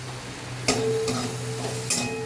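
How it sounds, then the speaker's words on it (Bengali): Oats masala filling for stuffed paratha being stirred in a hot pan, soft sizzling with a few sharp spoon scrapes against the metal, brief and close. "এবারে এটা একটু নেড়ে নেব।"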